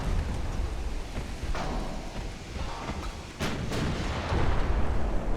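Warship big guns firing during a naval battle in the video game Ultimate Admiral: Dreadnoughts, a dense, rumbling roar of distant booming salvos over continuous low sea and battle noise, with a couple of sharper reports.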